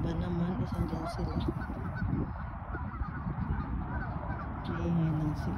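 Geese honk repeatedly in a winter park with bare trees, the calls loud and close over steady outdoor background noise, with brief murmured talk nearby.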